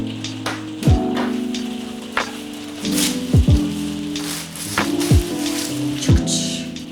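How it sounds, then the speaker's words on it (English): Rain falling steadily in the background, a soft continuous patter with a few louder knocks and thumps from nearby movement on top of it. "It's raining."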